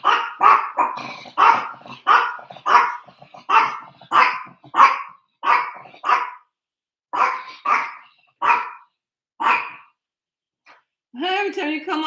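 A dog barks repeatedly in a quick series of sharp, close barks, pausing briefly, followed by a short stretch of someone talking.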